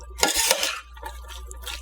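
Chopped bell pepper, onion, celery, garlic and jalapenos stirred in a pot for jambalaya, with a quick scraping rustle and soft clinks of the utensil against the pot, close and brief.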